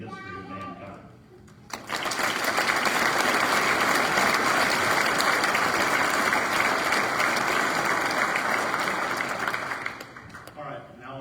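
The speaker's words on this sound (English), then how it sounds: "we would like to give one large round of applause for the gentlemen" Large crowd at a fall academy commencement ceremony breaks into loud, sustained applause lasting about eight seconds, then tapers off. A voice is briefly heard just before the clapping begins.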